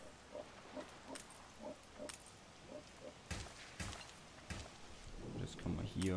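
Pigs on a farm in the Anno 1800 video game grunt softly in short, repeated oinks, with someone speaking over them.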